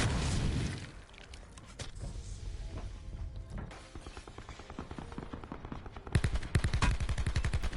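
Video game gunfire from a Peacekeeper in a solo squads battle royale match, loud rapid bursts of shots in quick succession with a heavy sustained volley near the end, no talking.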